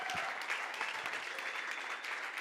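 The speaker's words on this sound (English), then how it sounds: "Give a massive round of applause." An audience at a Startup Grind Cape Town event gives Kevin Vermaak a round of applause, a faint, distant patter of many hands clapping continuously with no voices over it.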